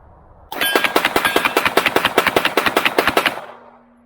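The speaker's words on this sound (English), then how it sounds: "what better way to end a review video than to mag dump the 14 remaining rounds that I have left" Canik SFX Rival pistol emptying its magazine at an outdoor range: a loud, close, fast unbroken string of about twenty shots over roughly three seconds, then a fading echo.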